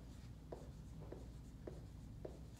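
Pen or pencil writing numbers by hand on paper, a few soft scratchy strokes spaced about half a second apart, quiet and close against a low background hum.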